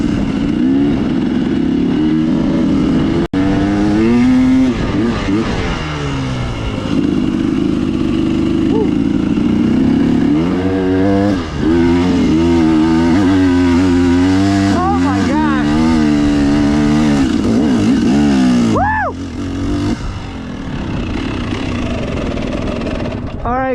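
A motorcycle with an RK Tek piston, RK Tek head, new crank and Scalvini pipe powers up a steep climb without the clutch, its engine loud and close, revving and surging continuously for over twenty seconds.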